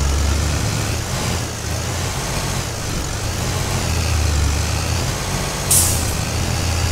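A Sonalika 60 DI tractor in Farming Simulator 22 strains to pull a big sugarcane trolley, its engine a loud, steady low rumble with a brief hissing burst near the end and no talk.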